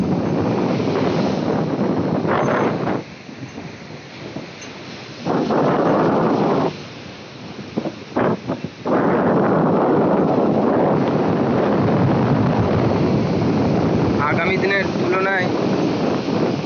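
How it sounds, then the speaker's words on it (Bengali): Big sea waves crash and roar steadily at Old Digha beach, a loud broadband rush with brief lulls, mixed with heavy wind buffeting the microphone. "ওই পাশটায় ঢেউ, বড় বড় ঢেউ মারছে"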